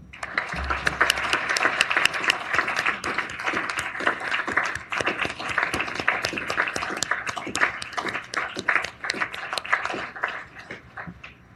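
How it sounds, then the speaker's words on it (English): Applause in a Virginia Senate finance committee room for committee staff, individual claps sharp and fairly close, continuing steadily and thinning toward the end. "I want you all to join me in applauding them for their hard work."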